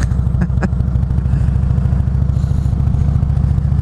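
A Harley-Davidson Road King motorcycle rumbles past on a country road, its deep, steady V-twin engine loud and close throughout with a continuous pulsing low-end throb.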